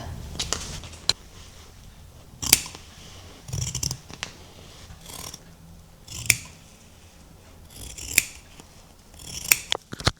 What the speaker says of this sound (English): So now let me cut the next two pieces.